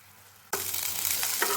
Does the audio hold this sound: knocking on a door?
no